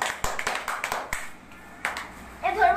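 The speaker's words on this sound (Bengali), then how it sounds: "জোরে হাততালি দাও" Children at a drawing class Teachers' Day celebration break into several short bursts of loud clapping and taps, which then trail off. An adult voice speaks briefly near the end.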